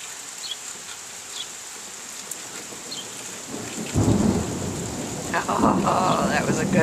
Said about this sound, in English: Lightning and thunder is pretty frequent.